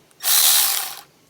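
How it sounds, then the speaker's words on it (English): Spinning ratchet removing bolts on a Rally 200 build, one rapid close buzzing whirr lasting just under a second, alone in a quiet space. "So I thought if I could get a ratchet that just spins."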